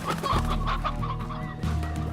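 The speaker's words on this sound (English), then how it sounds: "The painted hens, they're doing well here." Painted hens in the game Slime Rancher cluck busily in a dense, overlapping chorus, loud and continuous with repeated short calls and no talking.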